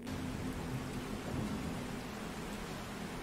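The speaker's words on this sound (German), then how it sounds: "Das klingt nach Gewitter." A thunderstorm rolls through the video game 7 Days to Die: steady rain hiss with a low, faint rumble of thunder, continuous and without talk.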